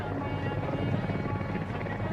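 Soviet Mi-24 Hind helicopter droning continuously at a steady, dense rotor and engine roar, fairly loud and unbroken throughout.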